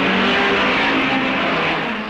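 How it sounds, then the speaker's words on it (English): 1968 British saloon race cars pulling away at a race start, a loud, dense roar of several engines revving hard together, sustained and close throughout. "They're away, and Gardner streaks into the lead, closely followed by Graham Hill."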